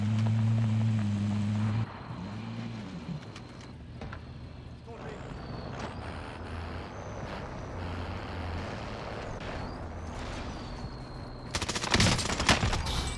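Rapid automatic fire from the OTS 9 gun in Call of Duty, bursts of gunfire under steady background game noise, with a louder dense burst near the end, while a voice talks throughout.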